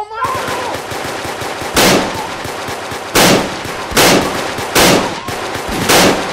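Gunfire in a Bigfoot comedy scene: loud bursts of shots crack out about every second or so, several sharp heavy volleys over a steady rough background roar, with no talking.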